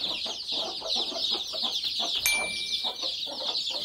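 Broody hens clucking among a crowd of chicks in a poultry yard, a dense continuous chorus of high chick peeps over low rhythmic clucks, with one sharp brief tone partway through.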